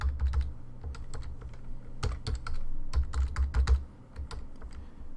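Fingers type a new password on a computer keyboard in a steady flurry of close key clicks with short pauses, over a low background hum.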